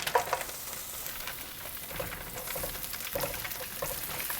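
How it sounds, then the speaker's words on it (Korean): Chopped garlic sizzling in hot oil in a pan for a vegetarian eggplant sauce, a steady soft crackle and hiss with brief stirring scrapes, close and fairly quiet, with no talking. "일단 마늘 기름을 먼저 낼까?"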